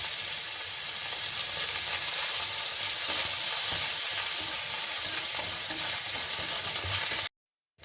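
Whole spices frying in a pan: bay leaf, cumin seeds and cloves spit and sizzle in hot oil in a continuous close hiss that cuts off abruptly near the end, with no talking.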